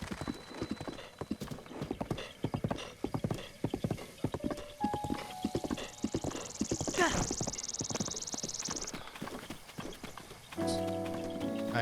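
Horse hooves clip-clop steadily in the Zelda: Breath of the Wild video game, with a brief neigh and game music and effects around them.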